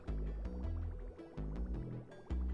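Water pumps in the Oxygen Not Included colony game, heard as a repeating cycle of low gurgling, bubbling pulses with soft clicks, alternating at a steady rhythm and moderately quiet.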